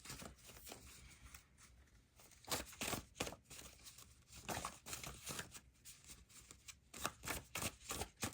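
Soft, papery riffling and shuffling of soft cards in repeated bursts, close by, with quiet rustles between passes.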